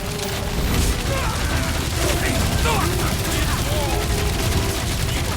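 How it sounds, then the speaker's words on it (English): Sustained gunfire from enemy-shooting combat in the game Guardians of the Galaxy, dense and continuous with bursts over a busy battle backdrop, mixed with faint voices and effects. "I'll keep putting bullets in them."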